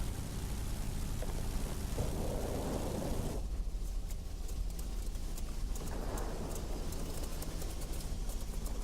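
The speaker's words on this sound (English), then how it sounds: "The storm is too heavy." A heavy storm with rain and thunder in World of Warplanes, the air combat game, during a match with Russian Ilyushin IL-8 and IL-10 attack aircraft. A dense, loud, steady roar of rain runs throughout, with scattered crackling impacts and no talking.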